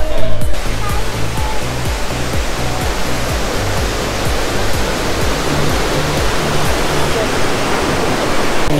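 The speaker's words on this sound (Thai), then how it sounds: "มีวิวมีน้ำตกด้วย" A waterfall flows at a shady café restaurant in a factory-style setting at Khao Yai, making a steady, loud rush of water that carries on unbroken throughout.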